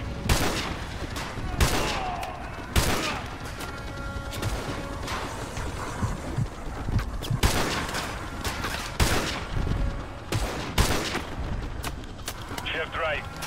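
Loud rifle shots crack out again and again at uneven intervals in a Call of Duty: Modern Warfare 2 sniper mission, each a sharp blast over a dense, rumbling battlefield background.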